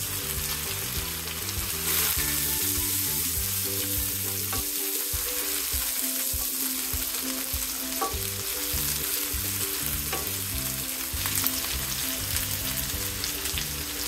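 Ginger garlic paste and chopped carrot fry in hot oil for Kashmiri pulao. A steady, close sizzle runs throughout, with occasional stirring scrapes and soft music faintly underneath.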